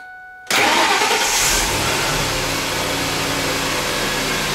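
A cold Ford F150 with a 4.6L V8 cranks and catches after a brief quiet moment, then settles into a loud, steady idle close by.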